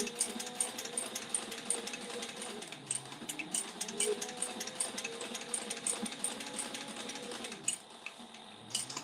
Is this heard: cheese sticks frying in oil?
no